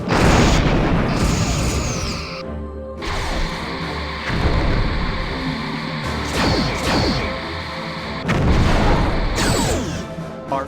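Forward torpedo tubes fire in Star Trek Bridge Commander, several heavy booming launches with whooshing tails and crashing impacts, spaced a few seconds apart over a loud starship battle ambience.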